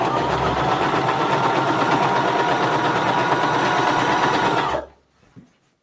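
A sewing machine stitches small quilt block pieces in one steady, close, loud run of about five seconds, then stops abruptly, leaving a quiet pause.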